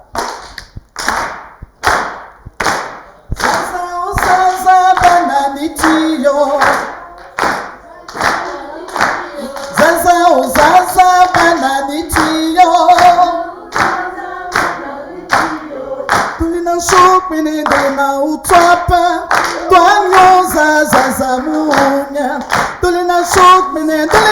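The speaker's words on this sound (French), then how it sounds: "Bon, on applaudit comme ça." Café audience claps in unison, sharp rhythmic hand claps at a steady beat, starting sparse then joined by singing voices that carry a melody over the clapping for most of the stretch.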